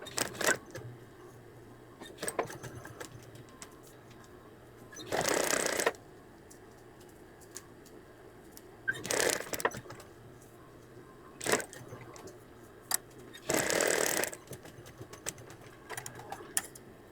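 Short bursts of a sewing machine edge stitching ribbon onto a hand towel, three quick runs of stitching separated by quiet gaps with faint handling clicks.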